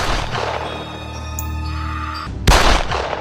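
A sharp, loud burst like a single gunshot cracks out after a few seconds of steady tonal background noise.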